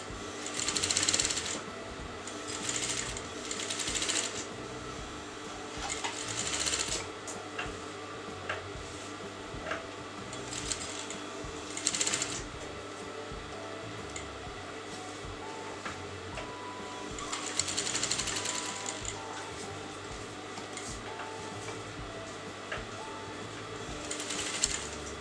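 A sewing machine stitches along the inner edge of a canvas neckline for a kameez or kurti, its steady mechanical whir running in several bursts with brief pauses between seams, close and moderately loud.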